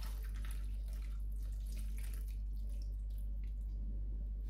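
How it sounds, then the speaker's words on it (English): Liquid jelly pours over a gluten-free sherry trifle with raspberries in a glass bowl, a soft, steady watery trickle with faint drips, close and quiet with no talking. "And then just pour over the jelly."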